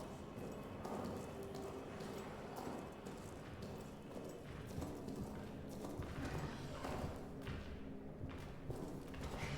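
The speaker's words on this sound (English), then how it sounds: "hearing footsteps." Footsteps in the horror video game Amnesia: The Bunker, a steady run of soft thudding steps over a dense, noisy ambient background, quiet and muffled throughout.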